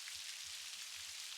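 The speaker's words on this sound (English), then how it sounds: "Let your mind drift as you listen to the rain's whispered melody" Steady, soft rainforest rain falls without pause, a gentle even hiss of drops with no other sounds over it.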